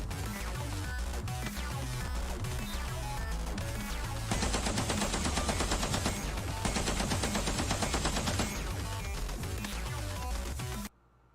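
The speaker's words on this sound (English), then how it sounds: "Get on the tank machine gun." A tank's machine gun firing in a video game: a rapid, steady stream of bursts in two long stretches, loud and up close, over a dense bed of game music.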